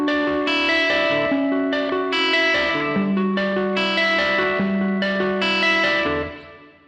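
Electric guitar plays the main riff of a song with an open D ringing between chord shapes, a steady run of picked notes drenched in chorus, echo and slight distortion, loud and continuous before fading at the end.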